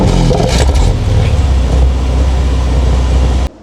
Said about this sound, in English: Now there is the engine start sound.